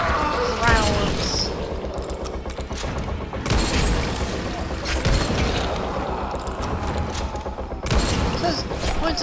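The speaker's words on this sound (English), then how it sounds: "Use a shotgun." Shotgun fire in a video game: repeated heavy blasts land every few seconds amid continuous combat noise, clanking mechanisms and scattered effects, loud and close throughout.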